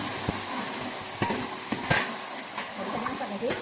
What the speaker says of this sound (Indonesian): Ini rimbang, kita goreng dulu